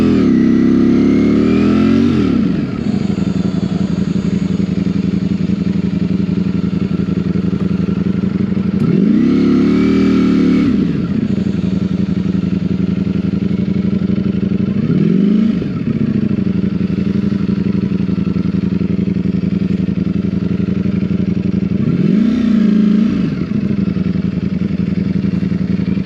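A 2024 Ducati Streetfighter V4 motorcycle engine drones loudly and steadily, rising in revs and swelling through several accelerations, with brief dips where it eases off between pulls.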